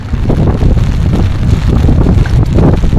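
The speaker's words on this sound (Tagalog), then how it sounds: "Talagang napaka-strong ng hangin dito." Strong wind roars continuously against the microphone, a loud, dense rumble with a hint of water and boat sounds underneath.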